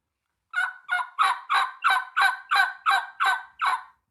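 A turkey mouth call imitates a hen's rollover yelp: ten evenly spaced, raspy, nasal yelps in a steady rolling rhythm, loud and close against silence.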